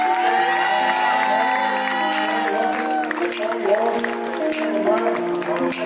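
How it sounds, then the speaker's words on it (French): Crowd at a breast cancer awareness event in Sarcelles cheering and whooping amid clapping, heard under loud music with strong tonal lines, the crowd noise rising in bursts toward the end. "On applaudit bien fort Julie"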